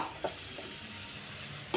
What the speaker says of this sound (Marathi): चांगलं लसूण खोबरं परतून घ्यायचं, कलर चेंज होऊस तर